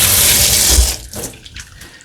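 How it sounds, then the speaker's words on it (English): Tap water runs steadily into a sink while hands are washed, a loud continuous splash that thins out into softer scattered trickles and drips. "the next thing I need to do is wash my hands"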